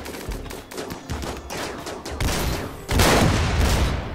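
Gunfire in RimWorld, the modded colony game: rapid bursts of shots crackle in clusters, building into dense, louder volleys near the end.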